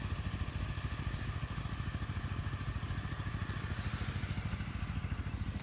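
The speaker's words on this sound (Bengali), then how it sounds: "ও পাওয়ার টিলার আল বাইতেছে" A power tiller ploughs the ridges of a paddy field in a Bangladeshi village, its small engine thudding in a steady, fast rhythm, close and continuous throughout.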